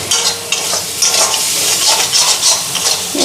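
Spices frying in an iron wok while being stirred, a loud close sizzle with repeated scraping strokes of the spoon against the metal; no talking.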